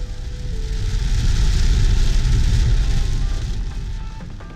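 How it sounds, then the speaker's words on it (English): Heavy rain pours down while a Toyota Matrix drives on an interstate. Dense, steady hissing from rain drumming on the car blends with low road rumble, and it swells louder in the middle. There is no talk. "what we were getting ourselves into was terrible weather and hours upon hours of absolute downpour."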